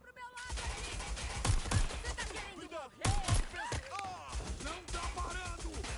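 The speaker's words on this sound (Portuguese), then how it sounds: "nenhum desses tiros está pegando em mim" Bursts of rapid gunfire crackle in the Watch Dogs: Legion game soundscape during a police chase, with sharp volleys near the start and middle while a voice talks over the action.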